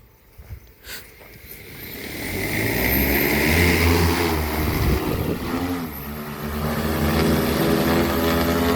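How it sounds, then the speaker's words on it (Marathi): Multi-rotor agricultural spraying drone buzz rises from quiet to a loud, steady whine, with pitch shifting as it lifts off and hovers nearby over a soybean and cotton field. "आता आपण ड्रोनला उडान देणार आहे"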